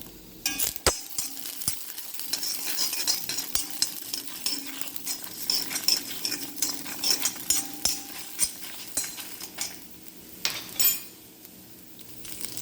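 Garlic and dried red chillies fry for jackfruit sambar, with a soft continuous sizzle under frequent metallic clinks and scrapes of a spoon stirring in the pan, all close by.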